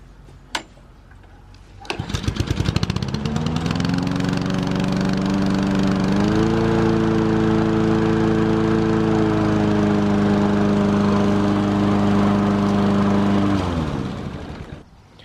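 An old lawn mower engine catches after a pull start: a sharp tug, then the motor roars up and runs loudly and steadily for several seconds before cutting off.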